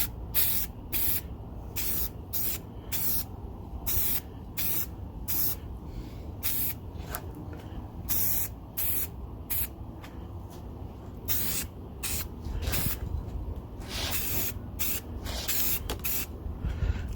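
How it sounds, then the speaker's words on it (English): Aerosol can spraying black paint onto a reclaimed-lumber shelf, a series of short hissing bursts in steady rhythm, close and fairly loud, with no voices. "I'm going to give these guys a couple of coats of black paint"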